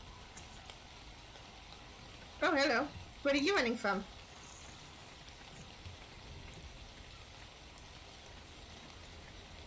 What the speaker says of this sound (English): Right, it's raining.